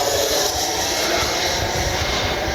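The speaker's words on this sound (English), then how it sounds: "Man, what a great flying jet." A Freewing Avanti S 80mm electric ducted-fan RC jet flies past with its gear down on approach, giving a loud, steady whooshing whine that holds throughout without speech.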